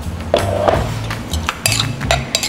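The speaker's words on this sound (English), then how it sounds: "I'm going to grab over my very heavy pestle and mortar" A very heavy pestle and mortar is handled in a kitchen, giving a series of close, loud clinks and hard knocks with short ringing tones, spaced irregularly over a couple of seconds.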